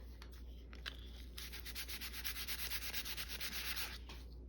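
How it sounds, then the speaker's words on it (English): Sandpaper rubbed against a book, a close, quiet scratchy rasp that starts in short strokes and then settles into a rapid rhythmic back-and-forth scrubbing for a few seconds, with no voices. "A little bit of sandpaper."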